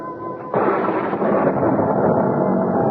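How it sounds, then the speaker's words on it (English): A radio drama thunderclap breaks in as a sudden loud roar and rolls on as a sustained rumbling crash, dense and close, with no voices over it. "I was startled by an enormous thunderclap, followed by the wrenching split of wood."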